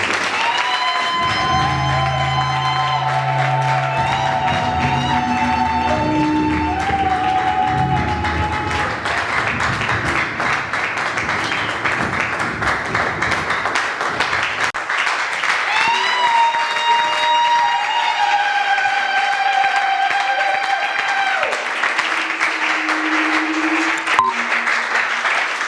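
Church congregation applauding and cheering as the pastor steps forward, a dense, steady wash of clapping and crowd noise mixed with music-like tones throughout.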